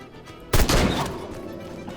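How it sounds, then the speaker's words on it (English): A single loud rifle gunshot in the game Sang-Froid cracks sharply, then rolls into a decaying rumble that fades over about a second. "I could go ahead and just shoot at them, one of them, just for the heck of it, just to get some use out of my rifle that I never use"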